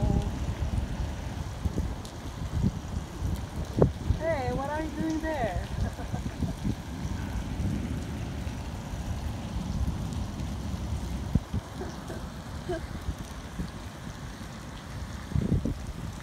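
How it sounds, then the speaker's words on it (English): Gusty wind during heavy rain in Kuwait blusters against the microphone over the patter of rain, with faint thunder and a brief faint bird call partway through. "so windy"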